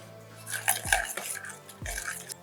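Salt and a seasoning cube are stirred together in a bowl for pizza, with a metal spoon clinking and scraping against the dish in quick, close strokes and a couple of heavier knocks, no speech.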